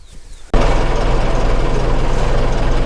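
An Ursus 912 tractor engine fires up after a brief quiet moment, then runs close and loud with a steady, deep, rumbling chug.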